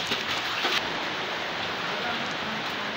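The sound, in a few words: heavy rain falling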